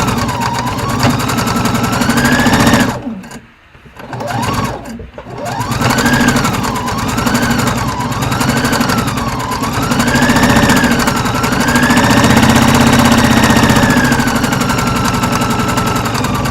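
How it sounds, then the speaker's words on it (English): Sewing machine stitching over fabric, a loud, continuous rapid whir that briefly stops twice near the start, then runs on with a wavering pitch as speed rises and falls. "I want to sew over it so it doesn't keep pushing it ahead."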